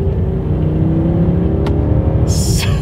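A 2022 Mercedes-Benz S 580 accelerates from a rolling start, its engine a low, steady rumble and whir that climbs gradually, muted and smooth with no talking.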